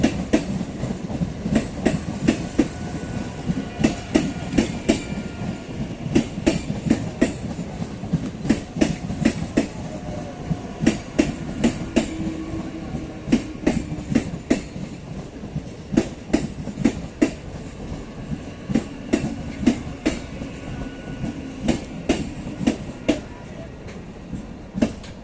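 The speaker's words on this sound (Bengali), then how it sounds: "31922 down Gede Sealdah local Kanchrapara workshop gate railway" The 31922 down Gede–Sealdah local train runs through Kanchrapara Workshop Gate station at platform 2, its wheels beating a steady rapid clickety-clack over the rail joints with a continuous rumble throughout.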